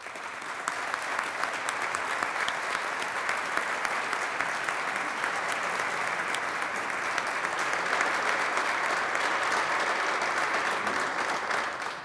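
Sustained applause fills the New York State Senate chamber after a resolution is adopted, a dense, even wash of many hands clapping that continues steadily for about twelve seconds without speech.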